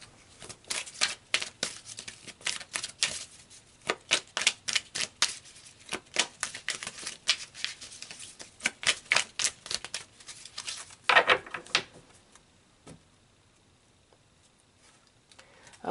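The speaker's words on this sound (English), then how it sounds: "So let's pull some more cards." Tarot cards are shuffled and drawn by hand in a steady run of quick, crisp flicks and riffles up close, tailing off into quiet near the end.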